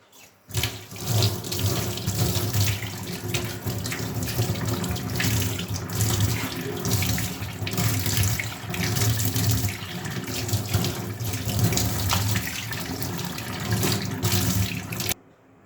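Water from a tap pours steadily into a kitchen sink as it is cleaned, a close, continuous splashing rush that starts abruptly and runs unbroken until it stops at the end.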